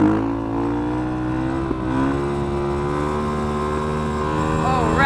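A motorcycle engine revs hard and steadily during a wheelie, its rising and falling harmonic drone loud and continuous throughout, with wind noise mixed in and a brief sharp knock midway.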